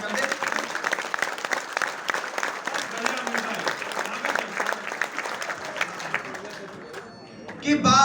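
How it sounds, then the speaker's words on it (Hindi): A crowd at a Hindi poetry gathering (kavi sammelan) claps long and evenly, a thick wash of applause that thins near the end as a voice and a louder bump come in. "एक बार जैसे आप मेरे लिए ताली बजाते हैं, आगे से लेके पीछे तक, दाएं से लेके बाएं तक"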